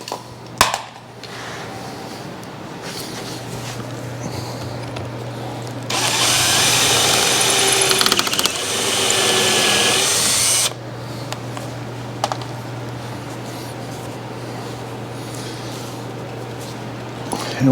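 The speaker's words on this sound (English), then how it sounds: "we'll go ahead and pre-drill." A power drill whirs steadily for about five seconds, loud and close, pre-drilling wood for a porch swing, between quieter stretches of room noise and a steady low hum.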